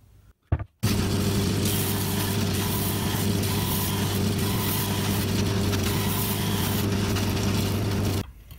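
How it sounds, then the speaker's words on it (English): A power tool rounds off the edge of a wooden piece for a movie clapperboard, starting after a brief stutter with a loud, steady whirring and grinding that runs unbroken for about seven seconds before stopping abruptly. "I've just got to round off a little bit of that wood so that that will allow that to open."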